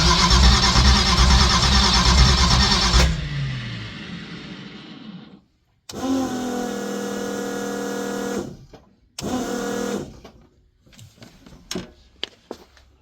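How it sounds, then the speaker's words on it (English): A race car engine cranks after sitting about five months, giving loud repeated starter churning in several bursts that cut off into silence, then scattered clicks. "Pump a little gas to it. See if we can make it fire off."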